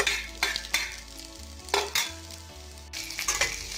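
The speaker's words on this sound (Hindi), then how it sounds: "अब डालेंगे प्याज। प्याज को ज़्यादा नहीं भूनना है" Onions frying in a pan for dhaba-style chilli paneer, sizzling steadily while a spoon scrapes and stirs in several bursts, close and fairly loud with no talk.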